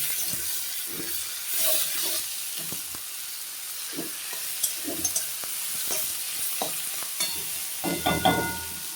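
Onion and radish fry in hot oil with a constant close sizzle, broken by scraping stirs and occasional louder crackles.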